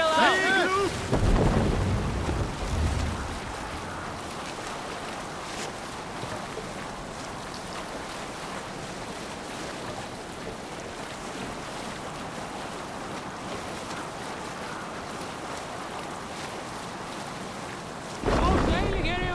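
Ship under sail at sea in Assassin's Creed Valhalla, a steady wash of waves and wind with creaking hull beneath, brief louder splashes at the start and end around a continuous, moderately loud rumble.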